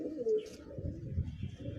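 A Madrasi pigeon in a home loft gives a soft, low coo, close and quiet, with faint background murmurs.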